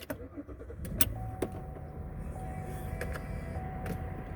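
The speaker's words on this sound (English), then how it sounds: "I'm gonna turn the car on." A 2008 Chevy Malibu LTZ with 167K miles cranks and catches, its engine settling into a low, uneven idle with a steady hum and a few sharp clicks near the start.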